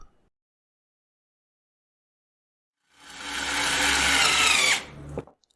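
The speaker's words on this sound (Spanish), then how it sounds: "Primero probaremos el atornillador a batería de 2-Toc." A 2-Toc cordless battery screwdriver drives a screw into wood in one steady, fairly loud whirring burst of about two seconds after a long silence, ending with a brief clunk.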